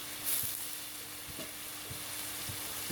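Crispy fried egg tofu and holy basil stir-fried in a hot pan give off a steady quiet sizzle, with a few soft scraping stirs of the spatula at intervals.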